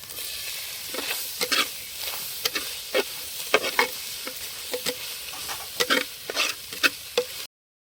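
Tomatoes frying and being stirred in a pan for pasta in a village kitchen, with a steady sizzle broken by repeated scraping stir strokes at an uneven rhythm, close and clear with no talk.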